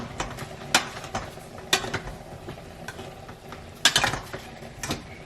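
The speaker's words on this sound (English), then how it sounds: "so now I'm just gonna stir that in" Onion and herb seasoning stirred into food in a pan, heard as scattered scraping and clinking strokes of a utensil against the pan, with a few louder bursts among softer scrapes and no talking.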